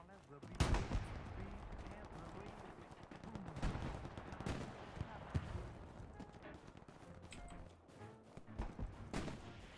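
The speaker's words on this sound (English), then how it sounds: "Where the fuck they were shooting me from" Gunfire in the World War II shooter Hell Let Loose, a chaotic mix of sharp single shots and rattling bursts, some close and loud, others distant, running throughout with a voice talking over parts of it.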